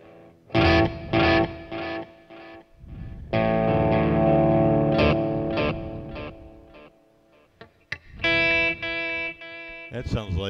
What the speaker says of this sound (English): That sounds like an octave.